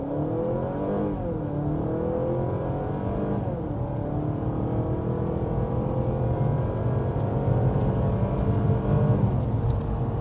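A Honda Civic hybrid pulls away from a stop under electric torque, its steady drivetrain hum and rising whine building continuously with no voices over it.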